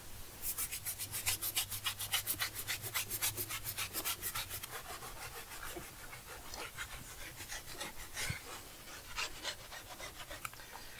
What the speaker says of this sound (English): we can scrub the tire first